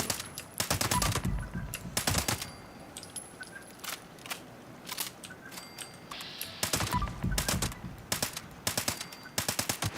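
Automatic gunfire in Fallout 76 crackles in several long bursts separated by short pauses, loud and close, with quieter game sounds between volleys.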